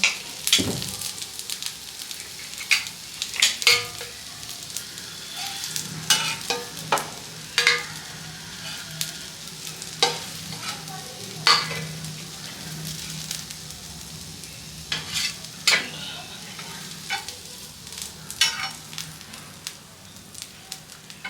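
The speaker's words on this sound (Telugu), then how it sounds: "ఇప్పుడు ఇలా కరిపాకేసి ఇలా ఫ్రై చేస్తే చాలా టేస్ట్గా ఉంటుంది" Fish pieces fry in a pan with curry leaves, Rajahmundry style, giving a continuous oil sizzle broken by frequent crackling pops and stirring scrapes over about twenty seconds, with no talking.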